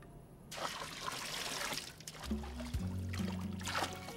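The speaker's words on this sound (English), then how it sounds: "Ready for the rinse cycle?" Steady rushing spray of car wash rinse water fills the clip, with a low mechanical hum joining partway through.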